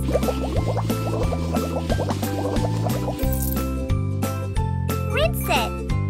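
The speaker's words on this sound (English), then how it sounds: "Apply the shampoo, please." Bubbly, tinkling game sounds as shampoo is worked into hair in a kids' pop star dress-up bath-time game, with music and watery fills running steadily throughout and a child-like voice talking over it.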